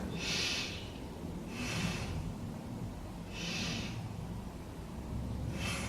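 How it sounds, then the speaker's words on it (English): Slow, deep belly breaths during a beginner yoga session, four airy inhale and exhale bursts at an even pace. Close, soft and alone over a quiet room. "Breathe into the belly, nice 3 big breaths."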